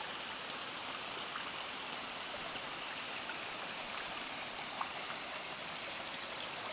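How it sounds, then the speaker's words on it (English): A river flows steadily through the Asama mountain range, a dense, continuous rushing of water that fills the whole stretch evenly and closely, with no voices. "when I'm not talking, all you can hear is the river"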